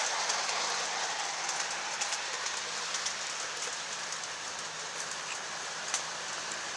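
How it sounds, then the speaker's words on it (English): Two G scale model train engines circle a loop of track together, giving a steady, fairly faint rolling rumble and hiss with light intermittent clicks and no voices. "Figured out that I could run 2 engines like this with no problem on the loop."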